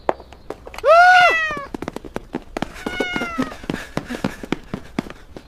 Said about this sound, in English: Feed the cat.